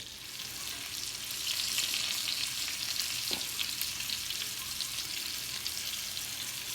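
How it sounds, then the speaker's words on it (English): Floured beef browning in melted butter in a hot pan, a continuous, even hiss of frying that swells slightly, with one faint stir sound midway. "the pan is hot enough so we can start adding our meat"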